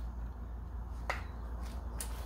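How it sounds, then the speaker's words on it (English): Velcro hook-and-loop polishing pad pressed onto a small 3M polisher for sanding and buffing clear coat, three short crisp rips and crackles over a steady low hum, faint and close. "You can really hear how good the Velcro is on the 3M products"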